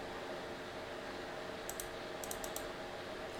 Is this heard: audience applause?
no